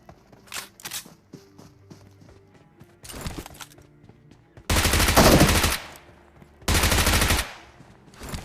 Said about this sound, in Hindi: राइट साइड से कोई फायर कर रहा था